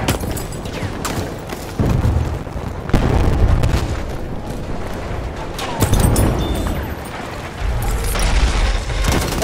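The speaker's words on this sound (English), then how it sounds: "Throwing a grenade!" Heavy booming blasts sound amid battlefield chaos in Battlefield 1 as a grenade goes off, with several loud low explosions and rumbling impacts repeating over nine seconds of constant combat noise.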